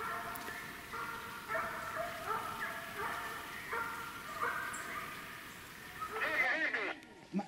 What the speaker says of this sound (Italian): Senti che canizza. Lassù.